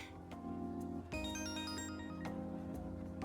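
A phone rings in the video game Persona 5 Royal, a tonal electronic jingle rising out of soft game music and then fading back under it, moderately quiet.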